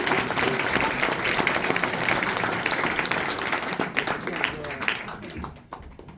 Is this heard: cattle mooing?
no